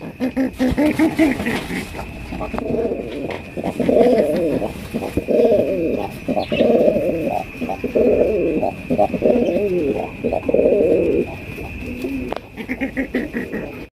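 Deshi Golla pigeons at a pigeon farm coo close by in repeated soft, throaty bursts, several birds overlapping over a faint steady hum.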